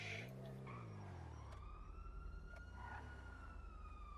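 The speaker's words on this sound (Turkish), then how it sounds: "Siren." A police siren wails in a car-theft video game, its tone sweeping up and down in repeated cycles, faint and distant over a low engine rumble.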